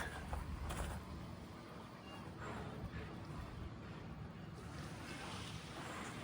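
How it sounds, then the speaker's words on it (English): Sea water laps gently in Bridlington harbour, a soft, steady wash of small waves near old rotting timbers and concrete, with faint wind and occasional creaks and no voices. "The gentle lapping sound of the sea here in the harbour"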